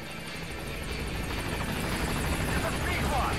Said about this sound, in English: Hear the heli coming now, so it's just a matter of time.